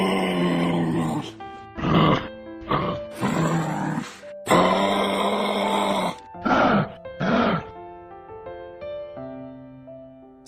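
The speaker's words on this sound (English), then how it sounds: "Kangaroo." A kangaroo gives a run of deep, throaty grunts in separate bursts of uneven length, close and loud, with brief silences between them.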